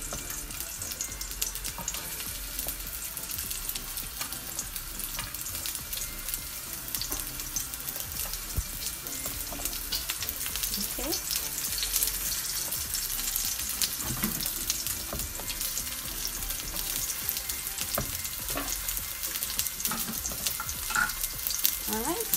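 Onions fry in a little oil in a pot, producing a loud, dense, unbroken sizzle with scattered pops and occasional stirring scrapes throughout.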